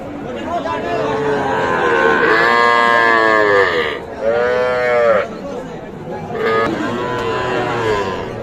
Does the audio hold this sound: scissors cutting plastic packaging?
no